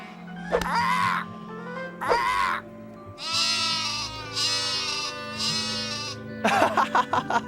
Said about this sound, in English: David, you stay there and look after the sheep.